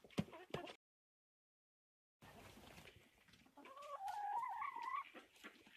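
Chickens cluck nearby, with a brief burst of calls, a short silence, then more clucking and warbling calls that are moderately loud.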